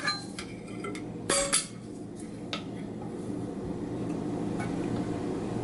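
A metal tablespoon clinks against a container while oats and flour are measured out for honey muffins, with a few sharp, close clinks early on and a faint one later over quiet room noise.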